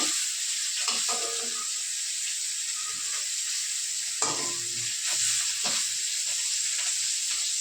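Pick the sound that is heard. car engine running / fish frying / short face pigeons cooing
fish frying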